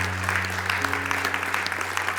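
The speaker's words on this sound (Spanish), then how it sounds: "Dale un aplauso de alabanza a nuestro Señor." Church congregation applauding in praise during a service, a steady round of clapping over a sustained low organ or keyboard hum, with some voices mixed in beneath.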